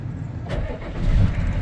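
An already warm Ford F-250 diesel pickup engine cranks and catches, then settles into a low, steady idle rumble close by.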